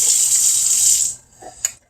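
Water pours from one glass jar into another in a kitchen, a bright continuous splashing stream for about a second that stops abruptly, followed by a couple of small clinks of the jar.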